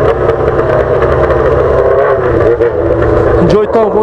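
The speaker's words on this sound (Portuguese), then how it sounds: "É moto tirando de giro no meu ouvido" A Yamaha XJ6 motorcycle with a modified exhaust, heard alongside an 8-inch loudspeaker setup, revs hard with a loud, sustained roar close by, mixed with a blaring music-like drone.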